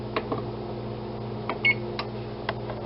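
An oven control panel being set to 425 degrees, giving a series of short, separate beeps at uneven intervals over a steady low hum, quiet and close.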